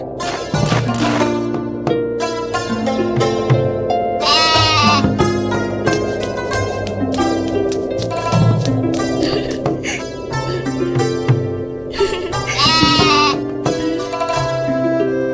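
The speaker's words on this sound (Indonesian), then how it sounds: "Itu namanya kambing pintar." Goat bleats repeatedly over a busy musical backing, several wavering cries standing out loudly at intervals, set in an Indonesian children's religious-education cartoon story.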